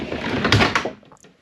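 A dresser drawer in a hotel room slides open with a close wooden scrape and rumble, a few short knocks and a faint rattle trailing off at the end.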